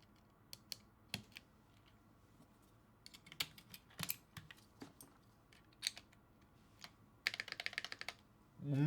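Keystrokes on a 65% mechanical keyboard fitted with GMK keycaps, sparse separate clacks at first, then a quick dense burst of typing near the end, close and fairly quiet with no one talking.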